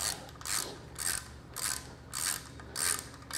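A hand ratchet tightens a bolt at the center of a vehicle brake drum, giving about six close, crisp bursts of rapid clicking in an even back-and-forth rhythm, with no talking.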